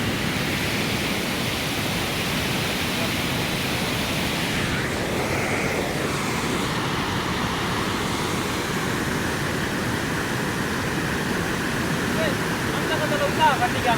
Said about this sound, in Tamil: தண்ணி அவ்வளோத்துக்கு மோசமாக வருது